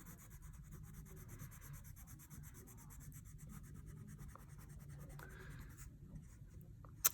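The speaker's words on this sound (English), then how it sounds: "So I'm gonna use my brown crayon" A brown crayon colors on paper in a steady, soft scratchy rubbing, close but quiet, with faint strokes continuing throughout and a small tap near the end.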